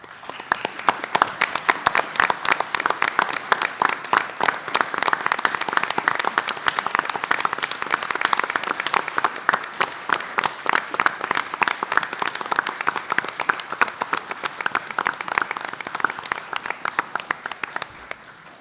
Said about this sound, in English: please stand and let us share in a round of applause for all of our recipients this evening